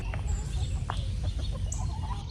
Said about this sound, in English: I hear the chickens, they are very upset that they are in chicken jail.